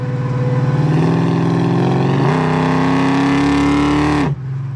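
A 1970 Chevrolet Chevelle with a 396 engine drones loudly from inside the cabin on a test drive, a steady low engine note that climbs in pitch as revs rise, holds, then drops sharply as it downshifts near the end.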